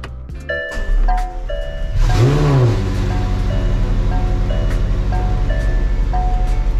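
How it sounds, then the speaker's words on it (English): A McLaren 720S engine cold-starts with a brief starter whir and a loud bark that sweeps up, then settles into a steady low idle drone, with a few chimes before the start. "Ready for a cold start on my McLaren 720S."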